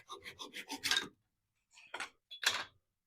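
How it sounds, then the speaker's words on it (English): A hand saw cuts a 1/4 inch MDF template with a quick run of rasping strokes, then a short pause and two more strokes, close up in a quiet space. "I could just cut it with a hand saw when I got odd shaped cuts real quick"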